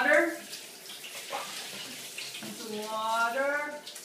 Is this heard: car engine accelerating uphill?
no